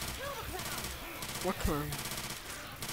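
Rapid gunfire from a weak gun in a Dark Carnival shooter game, firing in quick bursts mixed with game sound effects, while a voice speaks over the shots.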